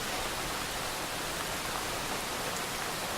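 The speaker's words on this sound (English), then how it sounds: "Let's take a little water break as we enjoy the sound of the rain." Steady rain hisses evenly and densely throughout, a broad constant wash with no other sounds over it.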